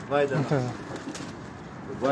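A Sir France cross pigeon on a rooftop in Islamabad coos in a few close, throaty phrases, with a quieter stretch between them.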